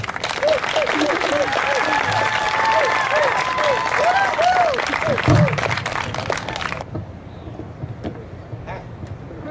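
Audience applause greets a presenter at a PechaKucha night, a loud sustained round of clapping with cheering voices that runs several seconds before cutting to a quieter room with a voice beginning to speak.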